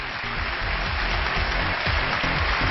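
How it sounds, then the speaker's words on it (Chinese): A studio audience applauds to welcome guests onto a televised relationship talk show, a continuous, even wash of clapping that sounds almost like heavy rain. "掌声有请这一对，掌声有请。"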